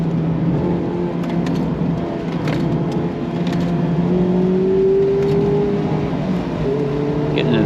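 A Mazda MX-5 Miata ND engine pulls hard at an autocross, its note rising steadily and loud, with tire and wind noise alongside and no talking over it.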